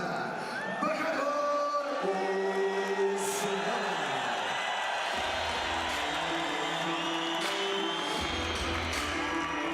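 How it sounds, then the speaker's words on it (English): A packed arena crowd in Dushanbe, Tajikistan applauds, cheers and whoops as a boxer from the black corner is introduced at an IBA Champions' Night boxing event; steady, loud crowd noise with a ring announcer's voice over it. "What a rapturous round of applause to greet the introduction of Bakhodur USMONOV"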